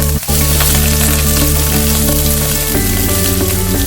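Green chillies, curry leaves, onion and coriander leaves hit hot oil for a little millet adai batter, producing a loud, close, continuous crackling sizzle after a brief drop at the start.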